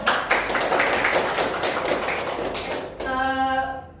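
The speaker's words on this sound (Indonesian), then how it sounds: "terus boleh tepuk tangan dulu" A class of children claps their hands together in a dense burst of applause that cuts off abruptly, leaving a brief tonal ring afterward.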